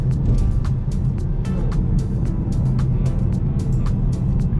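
A BMW 428i accelerating smoothly, heard from inside the cabin as a steady, loud low engine and road drone with continuous tire roar and no voices.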